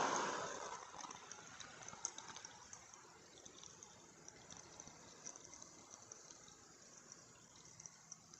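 Coolant is poured steadily into a 2006 Ford Mustang 4.0 during a water pump replacement, a continuous gushing, gurgling flow that is loudest at the start and then settles into a softer steady pour.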